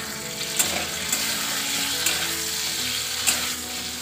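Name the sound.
potatoes frying in a pan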